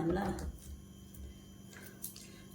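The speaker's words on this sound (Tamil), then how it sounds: "நல்லா இந்த மாதிரி உடச்சி நல்லா நசுக்கி விட்டுக்கோங்க" Ripe tomatoes squeezed and crushed by hand for seekh kebab, a brief wet squish at the start followed by faint soft squelches and drips.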